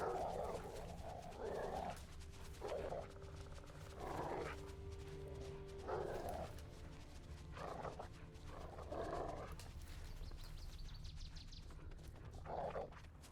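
A dog barks in repeated short bursts, spaced roughly a second or two apart, over a steady low game ambience in The Witcher 3.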